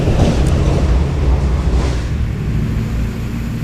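Continuous roar of traffic on a busy bridge over the water, a dense broadband rumble with passing vehicle swells, loud and close, no voices.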